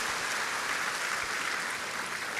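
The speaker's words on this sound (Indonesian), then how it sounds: "Sekali lagi beri tepuk tangan yang meriah buat Tuhan" At a Christmas church service, a congregation applauds in a steady, distant wash of clapping that holds at an even level with no voices over it.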